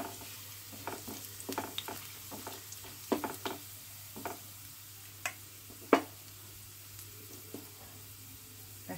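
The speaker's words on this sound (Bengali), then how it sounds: "একটু ভালো করে ভেজে নিতে হবে যাতে কাঁচা গন্ধ না ছাড়ে।" Doi kima frying and being stirred in a pan, with steady oil sizzle broken by repeated scraping and clattering strokes of a spoon, close and alone without any talk.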